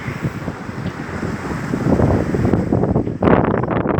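Strong wind of about 35 knots at sea aboard a solo sailing yacht, an Amel Sharki under a small jib, roaring steadily against the microphone with wave and hull rushing beneath, surging louder toward the end; no voices.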